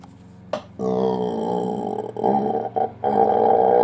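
A long, loud, rumbling burp with a brief catch partway, followed by a second deep belch that carries on to the end.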